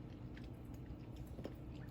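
Close, moist chewing on chocolate cake topped with Cool Whip and crunchy toffee bits, steady bites and squishes running throughout with no talk.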